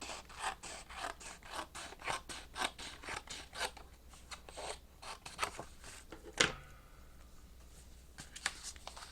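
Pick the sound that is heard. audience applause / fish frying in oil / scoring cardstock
scoring cardstock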